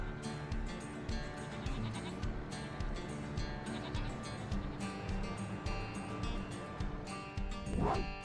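Goats in a farming video game bleating over a dense, busy bed of game sound and music, with a voice talking faintly underneath.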